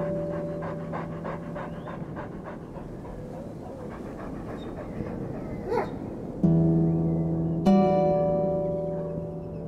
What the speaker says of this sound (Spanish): Gabriela está con cuatro de sus hijos y su perro Bakú en el pasto